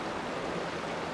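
Continuous broadband rushing of a waterfall in the video game Uncharted: Drake's Fortune, a steady, even roar of falling water with no pauses and no voices.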